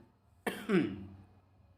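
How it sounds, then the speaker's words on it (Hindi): A single short cough, close and fairly quiet, with a rough throaty edge. "खांसी कुछ ज़्यादा ही हो रही है"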